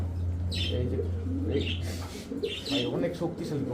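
Soft pigeon cooing and brief fluttering close by, mixed with a low steady hum and some background voices.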